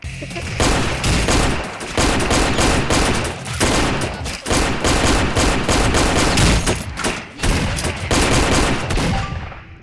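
Rapid gunfire from a video game, dense bursts and volleys of shots filling nearly ten seconds at a steady loud level, with only brief dips between strings of fire.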